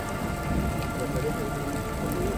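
Rain and hail fall steadily during a motorbike tour through Siran Valley toward Doga Meadows, a dense continuous patter of drops with a low rumble, close and even throughout with no voices.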